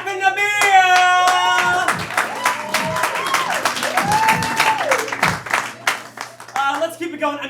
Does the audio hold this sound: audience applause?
yes